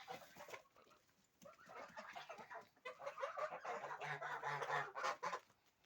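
Geese at close range honking and clucking in a farmyard after eating zucchini, with repeated calls bunched over several seconds and louder, denser cackling toward the end.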